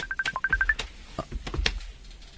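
A cellphone rings with an incoming video call in a home kitchen, a quick run of bright electronic ringtone notes up front, followed by a few scattered clicks and knocks nearby.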